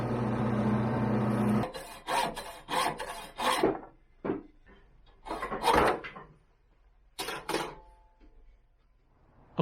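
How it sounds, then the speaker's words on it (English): A drill press bores a 1/4 inch hole through a cut-down spoon handle, heard as a steady grinding hum that breaks into several short rasping bursts of drilling, fairly close and with no talk. "Now I'm using a drill press here"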